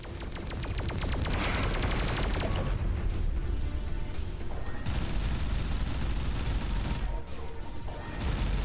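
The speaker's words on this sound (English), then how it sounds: "barrage of torpedoes incoming. Intercept as many of them as you can." A dense barrage of torpedo impacts and rapid weapon fire in the Everspace 2 space combat game, loud and continuous, with rattling bursts, crashes and booming explosions that briefly drop out before resuming.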